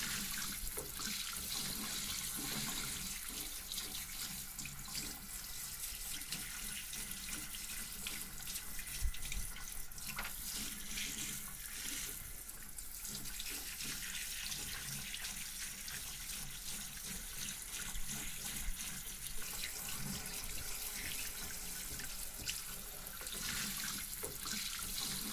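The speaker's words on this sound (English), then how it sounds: "It's water, okay?" Tap water runs steadily and close during a relaxing salon-style hair wash, a continuous broad rush with small splashy shifts in flow and no talking throughout.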